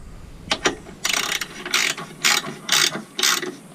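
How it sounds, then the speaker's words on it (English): A ratchet wrench tightening Allen head bolts on a trailer winch mount gives several short bursts of rapid clicking, a few quick separate clicks first, then four or five longer ratcheting strokes, close and clear, without talk. "These Allen head bolts, so all we gotta do now is get her tightened down"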